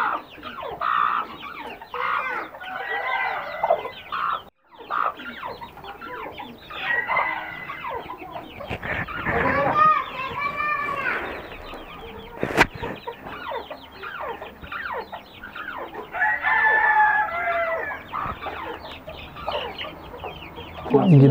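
Chickens cluck steadily throughout, with a rooster crowing briefly in the middle; a busy, close farmyard sound with no talking, on an Aseel chicken farm.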